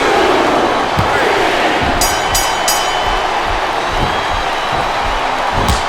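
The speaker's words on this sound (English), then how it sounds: "This capacity crowd is certainly getting its money's worth here tonight." Arena crowd roars in the wrestling game WWE SmackDown vs Raw 2007 on Xbox 360 during a Lita vs Torrie Wilson Ironman match, a loud, steady wash of cheering that fills the whole stretch with a few sharper bursts.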